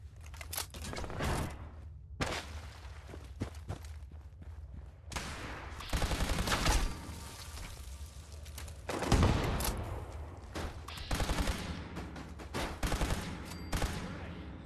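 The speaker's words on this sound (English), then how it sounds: "I'm shooting!" Gunfire in Fallout 76 during a raider side quest, with repeated sharp shots and rapid bursts spread across the stretch, some loud and close, others fainter, against game ambience.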